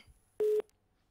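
A single short electronic telephone busy-tone beep sounds on a line after a call drops, steady and clear, with near silence before and after.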